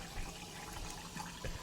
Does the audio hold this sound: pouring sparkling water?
yes